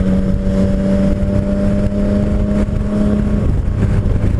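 A Yamaha MT-09 Tracer motorcycle engine revs close up with a loud, steady howl, holding a high pitch before the revs drop near the end, no voices.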